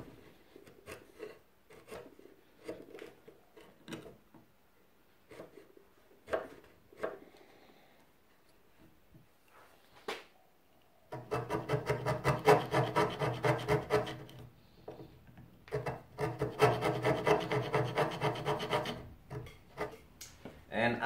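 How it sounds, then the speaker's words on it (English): A chisel scrapes wood pieces flat for a simple spice rack, first in scattered short strokes, then in long, dense runs of rasping scraping up close. "So I'm just using the chisel just to scrape them flat perfectly."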